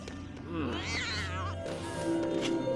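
A cat meows in the Lego Harry Potter video game, a rising and falling cry over steady game music and ambience, with a voice talking faintly underneath.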